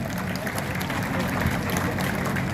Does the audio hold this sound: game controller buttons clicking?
no